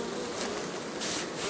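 A swarm of honeybees buzzes steadily around a beekeeper retrieving them from a tree, a dense, faint drone of many wings with no talk.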